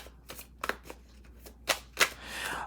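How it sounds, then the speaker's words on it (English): Tarot cards riffle and slap together in quick, uneven bursts, close up and fairly soft, with brief pauses between shuffles. "Just from shuffling"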